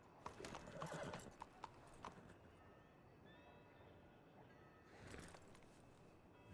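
Hooves clop rapidly on the ground in a Red Dead Redemption-style western roleplay game, fading into a quiet stretch with a faint high whinny, before another louder burst of hoofbeats.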